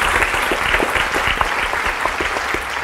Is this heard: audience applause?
yes